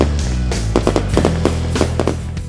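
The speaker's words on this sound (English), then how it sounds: "As night falls and the fireworks start, the result is spectacular." Professional fireworks at a night festival at Bundek in Zagreb, a loud rapid run of sharp bursts and crackles over a low continuous rumble, with no voices.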